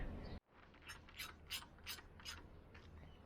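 A ratchet spins BMW M52 cylinder head stud nuts down by hand: a run of close, crisp clicking bursts in quick succession after a brief silent gap, with no talking.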